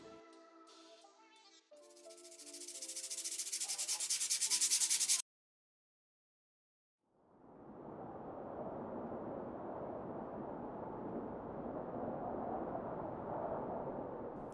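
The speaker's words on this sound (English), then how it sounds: "with a little bit of sanding I'm just gonna get it on there." A leather-skinned phone case is sanded by hand to shape it, a steady scratchy rubbing that runs continuously and fairly loud for several seconds after a brief pause, with no talking.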